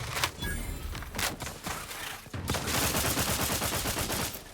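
Rapid weapon fire from The Outer Worlds 2 video game rattles out in dense bursts, loud and close, with a short break before a sustained volley.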